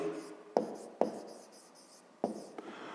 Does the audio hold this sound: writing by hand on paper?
yes